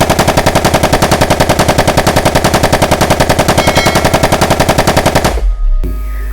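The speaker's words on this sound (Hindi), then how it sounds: "सामने से पुलिस ने बंदूकों से बाड़ मारी।" Loud, rapid automatic police gunfire rattles in a steady unbroken burst for several seconds, then cuts off abruptly into a low rumble.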